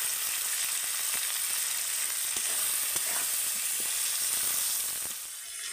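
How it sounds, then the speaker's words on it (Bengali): Chopped onion and tomato with a little salt fry in hot oil in a pan, giving a steady, close sizzle and crackle that stays even throughout before easing slightly at the end. "টমেটোটা দিয়েও কিন্তু একটু ভালো করে ভেজে নেব"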